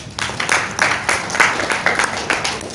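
An audience at a business presentation seminar claps in uneven waves, with loose bursts of hands rising and falling every half second or so at moderate volume.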